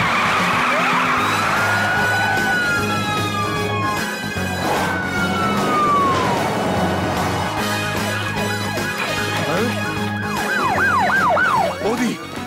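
Cartoon car revving and skidding under a busy, loud soundtrack, with screeching tire squeals, descending whistle-like swoops and a siren-like wail, plus a burst of rising and falling squeals near the end.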